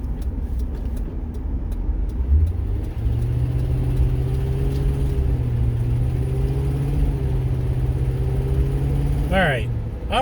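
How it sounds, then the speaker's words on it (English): Car with a failing transmission driving along a road, steady engine and drivetrain drone with a sustained whine that shifts pitch, continuous and close throughout. "I don't know if you can hear what my car's doing at the moment, but that's why it's going to need a new transmission again"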